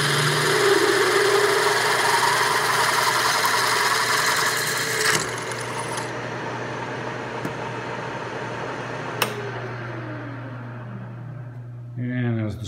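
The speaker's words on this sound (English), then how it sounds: "we've set our stop again on the milling machine, so we only go right down to that" A milling machine drills bolt holes into a wire wheel adapter down to an aluminum shim, a steady loud mechanical drone running throughout, easing down partway with a brief sharp click near the end.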